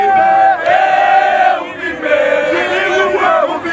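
Thousands of political party supporters at an outdoor rally, a dense crowd roar with rising chants and cries swelling and easing, loud and continuous.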